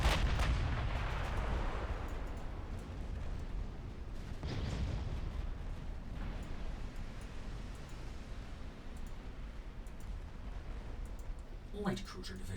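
Naval gunfire in the warship game Ultimate Admiral Dreadnoughts, with deep, rumbling cannon booms that fade into a low roar and a few later muffled blasts, heard fairly faint.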